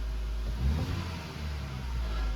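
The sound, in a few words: Nissan Juke engine revving at wide open throttle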